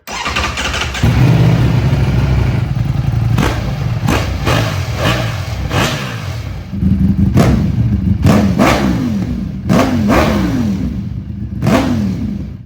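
A close 2025 Ducati Panigale V4 motorcycle with its stock exhaust idles and is revved repeatedly, with short bursts rising and falling throughout and no voices.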